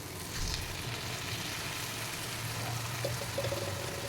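Ground roasted coconut paste is poured into a pan of frying bitter gourd and onion for theeyal. A steady sizzle and bubbling of the frying runs throughout, with a soft pouring sound and no talking.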